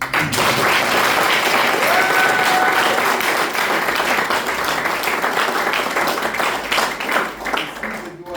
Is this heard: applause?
yes